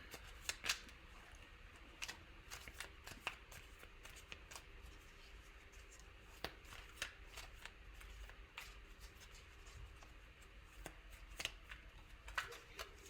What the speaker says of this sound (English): Let me start shuffling these cards, which I already did, but let me shuffle a little bit more.